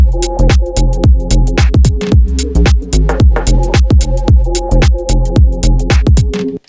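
Bass line built from a nearly unmodified Hype synth preset on an MPC One, bouncing over a steady drum beat with crisp hi-hats and kicks, loud and continuous before cutting off abruptly at the end.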